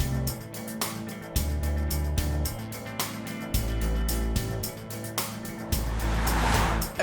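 A steady, low engine and road drone from inside an Isuzu KB 250 D-TEQ Double Cab LE 4x4 pickup on the move, with bumpy low thumps and a constant hiss throughout.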